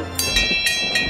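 Cartoon train rolling along rails in a children's nursery-rhyme scene, with a steady rumbling run and soft rhythmic bright bursts repeating about every third of a second, moderately loud with no voices.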